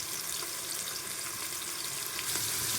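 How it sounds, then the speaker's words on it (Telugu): Onions and green chillies sizzle steadily in hot oil for a Telangana-style boti curry, a loud, continuous crackling fry with no pauses and no talking. "ఆనియన్స్ ఫ్రై అయ్యేటప్పుడే మనము ఈ మిర్చి కూడా యాడ్ చేసుకోవాలి"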